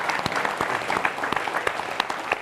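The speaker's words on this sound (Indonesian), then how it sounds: "Tepuk tangan" Studio audience applauding on an Indonesian television talk show, a dense steady patter of many hands clapping with sharp individual claps popping through, fairly close and continuous without talk.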